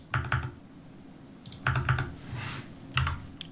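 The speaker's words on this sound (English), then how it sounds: "I'm going to select the line and hit backspace twice." Someone taps on a computer keyboard, pressing backspace twice, in a close, crisp pattern of short click clusters separated by brief pauses, with no speech.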